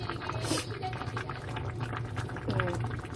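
Cheonggukjang, a Korean fermented soybean paste stew with tofu, bubbling in a pot. The simmering is soft and steady at close range, with faint liquid bursts and some low background noise.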